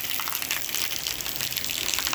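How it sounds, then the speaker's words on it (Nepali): Rain falling steadily outdoors in Nepal, a dense, even hiss of drops with no letup and no voices for the whole stretch. "यही पानी परेको"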